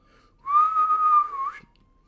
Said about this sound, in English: the woman gave a sharp whistle